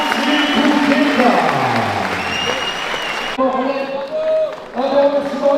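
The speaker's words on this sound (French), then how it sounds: "J'aimerais qu'on applaudisse vraiment nos annonceurs de cette dernière cérémonie" Crowd clapping at an awards ceremony, dense sustained applause with cheering voices, while amplified talk and music carry over it partway through.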